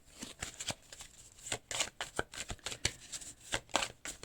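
A tarot deck being shuffled by hand, quick papery riffles and taps in irregular bursts, close but quiet, with no voice.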